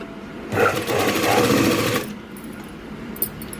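A sewing machine runs in one steady burst of about one and a half seconds, stitching saree cloth for a blouse, loud and close, then stops, leaving only faint handling noise.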